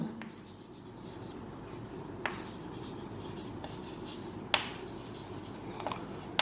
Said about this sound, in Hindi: मैं आपको एक जनरल रूल लिख रहा हूं।